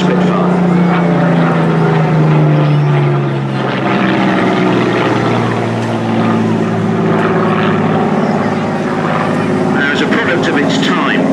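A Hawker Hurricane propeller fighter flying at the Teignmouth airshow, a loud continuous engine drone with a falling pitch sweep as it passes, steady throughout with a voice talking over it.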